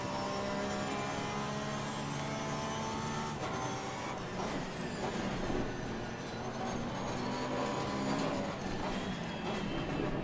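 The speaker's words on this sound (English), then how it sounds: "What was that train?" A train rumbles past continuously beside the Suzuka circuit in the racing game Assetto Corsa Competizione, a loud sustained drone with tonal hum and rattling that shifts slightly midway, heard alone without talk.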